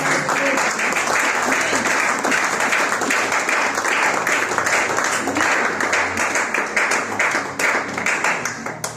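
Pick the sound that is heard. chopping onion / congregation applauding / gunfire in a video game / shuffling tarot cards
congregation applauding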